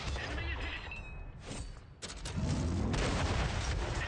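Heavy tank cannon shots in an armored combat video game, firing as an enemy tank pulls back, booming blasts amid continuous battle noise and rumble.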